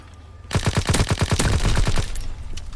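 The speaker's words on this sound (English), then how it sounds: "Oh, I see where they're shooting from." Gunfire in Call of Duty: WWII multiplayer: after a quiet start, a burst of about a dozen rapid automatic shots rings out close and loud, then trails off.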